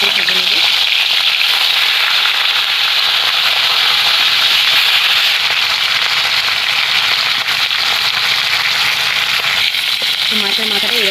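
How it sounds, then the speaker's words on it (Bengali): A hilsa fish head frying in mustard oil in a kadai gives a loud, continuous sizzle and crackle, steady throughout with brief faint sounds near the start and end. "তো ইলিশ মাছের মাথাটা ভালো করে ভেজে নেব।"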